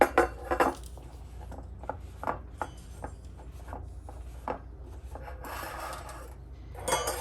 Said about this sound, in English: So I just scoop it up with the spatula and fill it in.